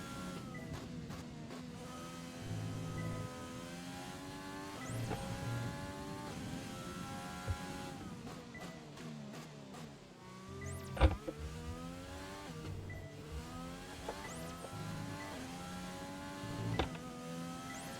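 Engine of an F1 car lapping the British circuit in the F1 2020 racing game, whining through repeated rising gear-change sweeps with brief downshift dips and a sharp curb bump, steady and continuous with no voice.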